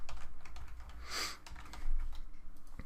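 Rapid keystrokes clatter on a computer keyboard at close range in an uneven burst, briefly interrupted midway by a soft breathy sound, with no talking.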